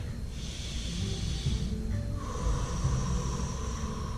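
Slow, deep breathing during a yoga session, a long breathy hiss of inhale and exhale repeating steadily and close up, with a faint snorting edge and no talk over it.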